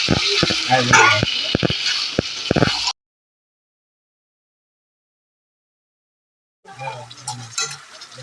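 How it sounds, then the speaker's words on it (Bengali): Chicken curry is stir-fried (kosha) in a pan: a spatula scrapes and clatters through the sizzling mixture for about three seconds. The sound cuts to silence, then the scraping and sizzling return more faintly. "এবার এটাকে ভালো করে কষাবো।"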